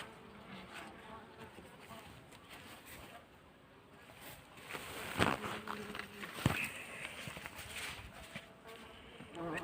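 Bees and bumblebees buzzing around a Caucasian F1 beehive during a January hive inspection in Ağva, Istanbul; a steady faint hum runs throughout, broken by two sharper close knocks or handling sounds midway.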